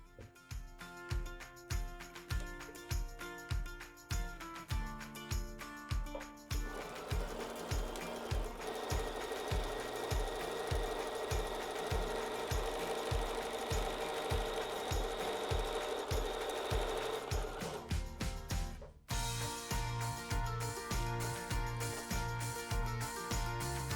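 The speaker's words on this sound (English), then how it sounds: "And we're going to run a basting stitch. 1/8 inch." A sewing machine stitches a 1/8 inch basting seam on a pinned quilting piece, its rapid needle thumps running in steady bursts with a brief stop and restart near the end, close and alone without speech.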